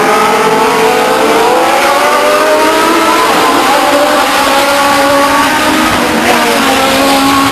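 Legends race cars roar past in a loud, continuous pack at Stockton 99 Speedway, engines revving hard and pitches shifting as they accelerate through a single-file restart.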